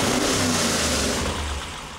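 A Small Block Chevy V8, a stage 2 build, running on a dyno, with a loud, steady engine roar and a low rumble throughout that eases off slightly toward the end.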